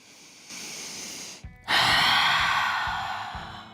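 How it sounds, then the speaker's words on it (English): Deep breaths during a power flow yoga session: a long inhale, a brief pause, then a loud extended exhale that slowly tapers, close to the microphone. "Breathing here."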